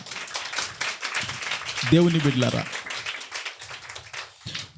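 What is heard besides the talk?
congregation clapping in church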